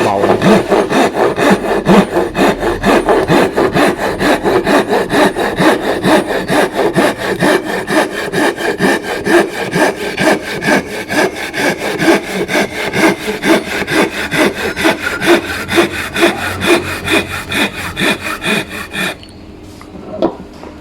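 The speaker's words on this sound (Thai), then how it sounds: "พอเราเลื่อยมานะครับตอนแรกๆเราจะเอียงใบ แบบนี้นะครับ" Rapid, rhythmic rasping strokes of a Japanese hand saw cutting through wood, loud and close, steady for most of the stretch before stopping abruptly near the end.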